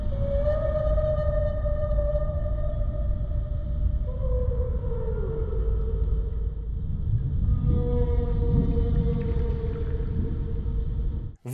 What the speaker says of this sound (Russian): И в самом полимере, помимо реплик, мы слышим звуки китов.